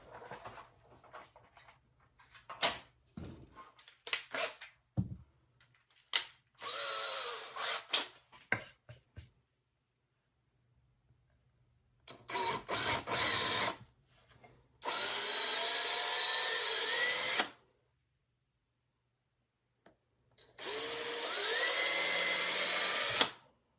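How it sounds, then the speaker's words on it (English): Power drill boring pilot holes in wood while mounting deer antlers, heard as several separate loud whining runs with rising pitch, separated by quiet gaps and scattered handling knocks. "Drill pilot holes, that way I know exactly where it needs to be"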